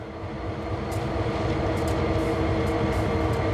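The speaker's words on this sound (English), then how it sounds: "it looks like these SD40s are already running" SD40 diesel locomotives idle at Sand Patch in Train Sim World 4, a steady low rumbling drone heard from nearby, continuous and unbroken without talk.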